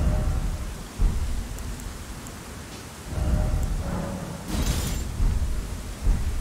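Steady rain falling with rumbling thunder rolling in several times in Elden Ring, the downpour continuous and the thunder swelling in heavy low surges, with no voices.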